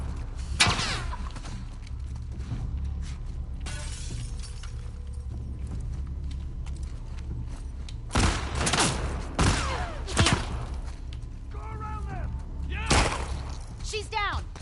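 Bursts of gunfire in the video game The Last of Us Part II, sharp cracks scattered across a tense stretch, some shots in quick clusters, mixed with breaking and impact noises over a low background rumble.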